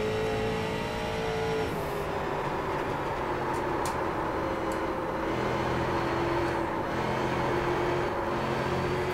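A street stock race car engine in the iRacing video game at USA International Speedway drones loudly and steadily, with a low rumble and sustained tonal whine that shifts in pitch.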